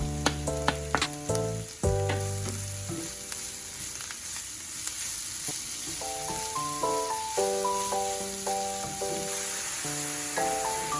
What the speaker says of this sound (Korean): 중불에서 3분 정도 볶아주세요.